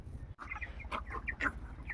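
Month-old chickens clucking at close range, a series of short, quick clucks and squawks in uneven bursts over a low background hum.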